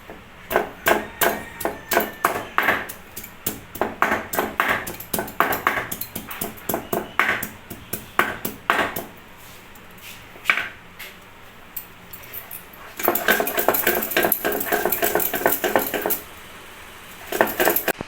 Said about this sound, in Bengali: এখন আমি আদাটা বেটে নেব, আদাটা বেটে নেব মিহি করে